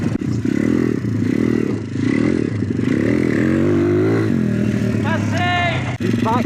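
A motocross bike is ridden on an abandoned dirt track, its engine loud and near, revving up and down with rising pitch, mixed with scraping and clattering.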